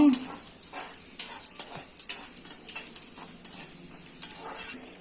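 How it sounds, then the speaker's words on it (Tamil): Mustard seeds crackle and sizzle in hot sesame oil, a steady soft frying hiss with small popping ticks, close and quiet, with occasional stirring scrapes. "இதெல்லாம் நம்மளுக்கு கொஞ்சம் பொரியட்டும்"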